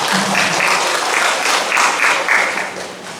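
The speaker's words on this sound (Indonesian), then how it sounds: "tepuk tangan" Steady applause from a sizable church congregation during a worship service, loud and continuous, tapering slightly at the end.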